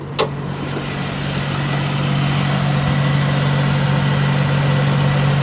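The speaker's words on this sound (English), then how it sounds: "I'm going to open the hood and show you how she sounds underneath." Engine of a 2004 Buick LeSabre idling with the hood open: a loud, steady, smooth low hum that holds evenly throughout after a brief click at the start.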